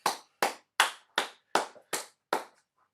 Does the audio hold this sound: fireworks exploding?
no